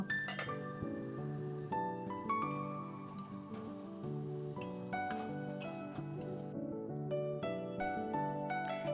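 A lid goes onto a pan of pabda fish curry cooking with tomato, eggplant and potato, giving a few light clinks and a sharper knock over a quiet, steady tonal backdrop.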